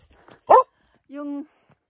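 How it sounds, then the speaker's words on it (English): A dog on a hike at Cathedral Lake near Aspen Snowmass, Colorado, gives one sharp bark, then a longer whining, yelping cry, both close and clear against a quiet mountain background. "Only Sarah is barking"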